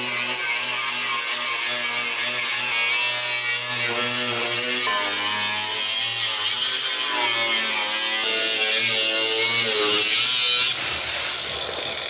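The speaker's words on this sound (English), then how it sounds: "How's that new grinder, bro? So far, so good. It's cutting through it like butter." A new angle grinder cutting through the inner rocker panel of an NSU car, a loud continuous high whine with shifting pitch as the blade bites the metal, no talk over it.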